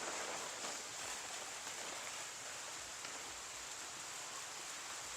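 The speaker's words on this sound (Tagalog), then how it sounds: "Umaambon." Light drizzle falls outdoors on a farm at dusk, a soft, steady broadband patter and hiss that holds evenly and faintly throughout with no voices.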